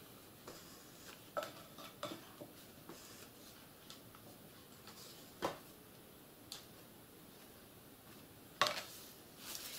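Buttercream icing beaten by hand in a mixing bowl, a faint scattering of light scraping taps and clinks against the bowl, irregular and close, with a sharper knock near the end; no talk.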